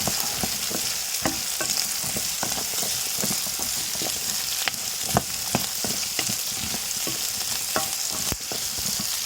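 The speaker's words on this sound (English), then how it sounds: "My carrots go in. And mix them up." Onions and carrots sizzling steadily in a pan for a red beans and cabbage meal, with frequent sharp spoon scrapes and clicks as they are stirred, close and continuous, no talking.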